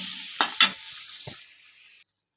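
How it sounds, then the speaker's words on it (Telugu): Stuffed brinjals in oil give off a steady sizzle with a few sharp stirring clinks near the start, then fade to silence. "ఇట్లా చూడండి, నూనెలో బాగా కొంచెంసేపు మగ్గనియాలండి."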